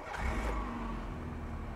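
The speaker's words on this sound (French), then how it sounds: "Le véhicule est totalement froid et je vous le démarre." A cold 1.4 litre TU car engine running on E85 ethanol cranks and catches, settling into a steady, close idle rumble with no one talking.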